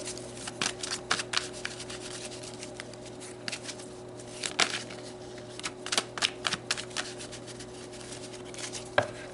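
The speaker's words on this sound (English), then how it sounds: "I'm going to shuffle you in and see what story comes out" Tarot cards being shuffled by hand, a steady stream of soft papery riffles and flicks with sharper snaps scattered throughout, close up and continuous with no talking.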